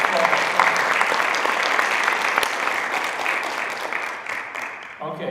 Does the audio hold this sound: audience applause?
yes